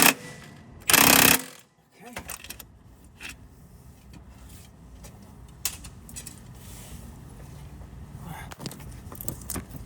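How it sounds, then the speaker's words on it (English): A ratchet tightening the center bolt of the high pressure pump on a Sprinter van gives a short, loud burst of rapid clicking near the start, followed by quieter scattered clicks and metallic handling noises. "so you can tighten the center bolt for the high pressure pump"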